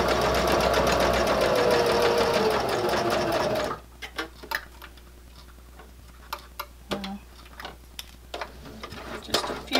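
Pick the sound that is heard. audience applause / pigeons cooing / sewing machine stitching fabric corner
sewing machine stitching fabric corner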